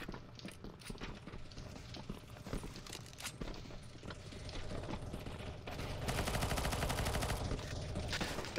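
Rapid gunfire from a CS:GO zombie-escape surf map, dense overlapping shots and automatic bursts that swell louder toward the end amid chaotic game noise.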